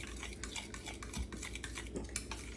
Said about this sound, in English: Just going to stir that in.